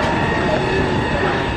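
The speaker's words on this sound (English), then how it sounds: "And I'm getting on the train here." A train rolls along with a steady, fairly loud rumble and rattle, heard from on board, with faint voices under it.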